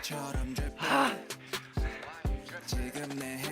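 Heavy, rhythmic breathing from a cyclist pedaling up a very steep hill in rural Thailand, with repeated loud gasps and sighs close to the microphone, each breath strained and labored.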